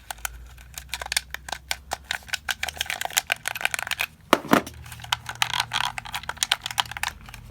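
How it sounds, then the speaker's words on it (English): Rapid plastic clicking of Switch Pro-style game controller buttons and analog thumbsticks, loud and close, in irregular bursts with one sharper clack midway; no voices. "the loud clicking analog sticks and the loud buttons"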